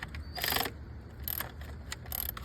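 A ratchet clicks in short bursts while snugging valve cover bolts on a Kia Sorento engine, three quick ratcheting runs with pauses between, close and moderately quiet with no talk.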